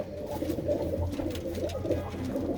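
Pigeons coo inside a loft, a dense low murmur of overlapping throaty calls, steady and close, with no voices.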